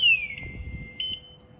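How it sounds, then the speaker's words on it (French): A Goboard Titan electric scooter's factory alarm sounds a loud, piercing electronic tone that sweeps down and then holds steady, briefly pulsing again before cutting off. "Il y a l'alarme d'origine"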